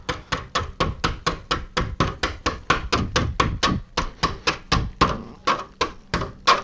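Protruding insulation plugs in an exterior stucco wall being knocked down, a fast steady series of sharp chopping thuds close to the microphone, with no talking.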